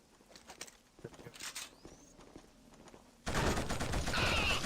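Gunfire in the video game KillZone, starting as scattered, distant shots and clatter, then a sudden dense burst of loud rapid fire in the final second and a half.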